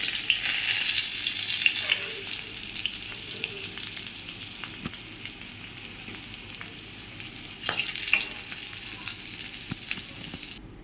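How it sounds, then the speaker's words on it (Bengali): Eggs frying in oil, a steady crackling sizzle with scattered pops and spatters, moderately loud and close, with no talk. "ডিমগুলো ভেজে নেব দেখুন বন্ধুরা ডিমগুলো ভাজা হয়ে গেছে"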